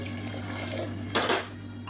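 A brief splash of water poured into a cooking pot of karuppu kavuni rice and ragi kanji, a short burst over a low steady hum, with no voices.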